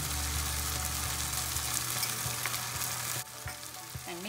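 Ground spices, including chili powder, are stirred in a hot frying pan for samosa chaat. A steady close sizzle runs under light scraping stir strokes, quieting briefly near the end, with no talking.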